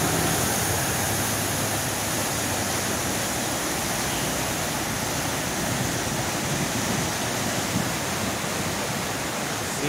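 Heavy rain pours down during a thunderstorm in Cali, Colombia, a dense, steady roaring wash of noise without a break.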